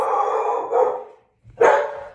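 Close-up dog barking: two or three loud, drawn-out barks with a brief pause between, no voices.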